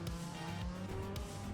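Race cars on a track make a continuous engine roar and tire noise that rises and falls over a brief moment, loud and close with a couple of quick whooshes, without speech.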